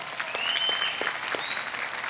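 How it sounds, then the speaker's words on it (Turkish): Young people at a TEKNOFEST question session give a big round of applause, a brief, steady patter of many hands at moderate loudness with a few sharper claps poking through. "Size kocaman bir alkış."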